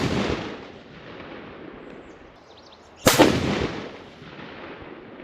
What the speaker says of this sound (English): I'm going to shoot a 5-shot group.